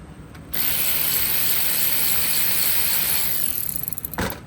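A ratchet removes an 8mm bolt from the intake at the throttle body of a GMC Yukon or Chevy Tahoe with a 5.3L or 6.2L engine, giving a close, continuous buzzing ratchet whir for several seconds.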